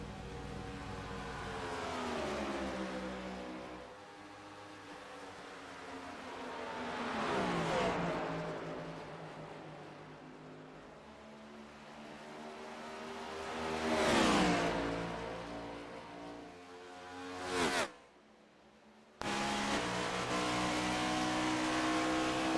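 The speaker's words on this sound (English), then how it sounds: "Cameron and Chuck are going by the 23 Varenac car" Stock race cars race at Pocono Raceway in a simulated cup series event. Engines rise and fall in pitch as cars pass in close succession, loud repeated whooshing passes with a brief cut near the end.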